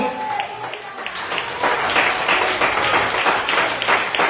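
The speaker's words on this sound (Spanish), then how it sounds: "Nos den un aplauso al Señor." Church congregation applauding during a sermon, a loud, steady spell of crowd clapping that swells after a moment and continues to the end, with a voice briefly heard at the start.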